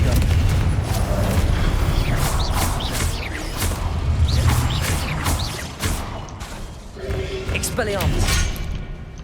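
A Confringo fire spell in Hogwarts Legacy goes off in heavy, rumbling blasts amid busy combat effects, with crackles and whooshes and a voice talking over the fight.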